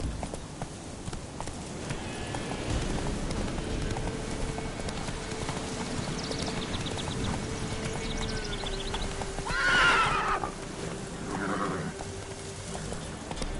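Roach, a horse in The Witcher 3, trots with steady clip-clop hoofbeats and lets out a close, loud whinny partway through, with rhythmic hooves continuing underneath.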